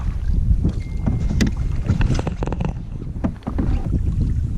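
Paddle strokes splash and drip beside a canoe on a lake in the Algonquin backcountry, with soft knocks against the hull and light wind across the microphone under overcast skies; close, unhurried, no voices.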